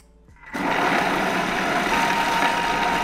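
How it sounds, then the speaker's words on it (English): Blender mixing a bacon jerky marinade for peanut butter and banana bacon jerky with water, switching on abruptly after a faint moment and then running as a steady, loud, continuous whir. "Put the lid on, we're just gonna mix this stuff up."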